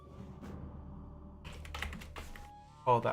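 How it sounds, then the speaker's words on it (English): Computer keyboard typing between bursts of gameplay, short clusters of quiet clicks and taps close to the mic, with a louder clatter at the end. "In between combat typing."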